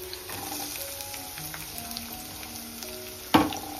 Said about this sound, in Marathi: कांदा आपला मस्तपैकी तेलामध्ये परतून झालेला आहे